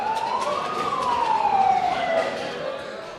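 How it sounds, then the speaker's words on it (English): An ambulance siren wails at a hospital receiving casualties from an airstrike, one rising-then-falling tone sweep over a steady background hum. "An ambulance has just arrived now, bringing casualties from the latest airstrike."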